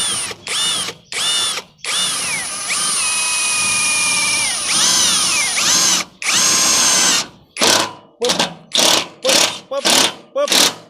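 An Osuka OSID520 128V cordless drill drives screws and drills, with short whirring bursts, one long sustained run with rising and falling pitch, then a quick series of brief trigger pulls. Voices can be heard between bursts.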